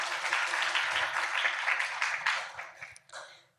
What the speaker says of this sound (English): You can clap, yes,